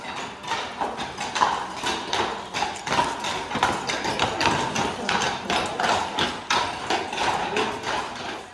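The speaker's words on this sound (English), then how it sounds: "drive the tractor trailers, horses, and equipment around the country" Steady clip-clop of Clydesdale horse hooves on hard ground, a brisk even rhythm continuing throughout, fairly close and clear.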